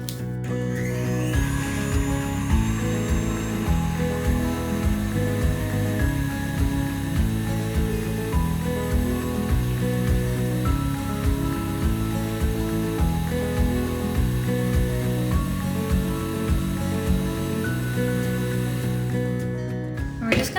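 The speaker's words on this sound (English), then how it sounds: "So we're gonna add this to our stand mixer." A stand mixer whirs steadily as it creams vegan butter for frosting, a loud continuous motor hum with a rhythmic beater churn running close and unbroken for the full stretch.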